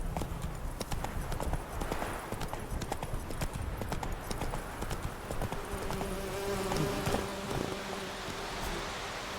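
Hoofbeats of the horse Roach galloping in The Witcher 3: Wild Hunt, a fast, steady clip-clop rhythm continuing throughout, with light ambient buzzing in the background.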